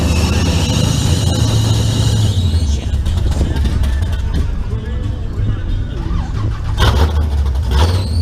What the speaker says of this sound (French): Là il y a une bagnole qui démarre